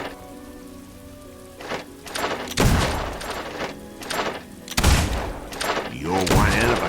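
Rapid gunshots crack in bursts at a shooting gallery in Fable II, loud and close, several volleys across the stretch with a musical or voiced tone near the end.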